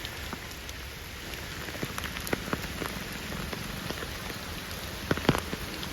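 Steady rain pattering on a surface at an elephant camp, Aanakkotta, with scattered louder drops tapping nearby throughout; no voices.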